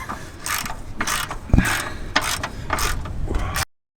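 Impact gun rattling off 13mm bolts on a Seat Leon Cupra exhaust, a series of repeated bursts of buzzing hammering close by with a brief sharp knock partway through.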